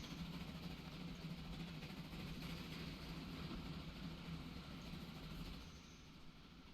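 Long trains in Transport Fever 2 roll across a massive bridge as a steady, dense rail rumble that holds evenly, then eases and grows quieter near the end.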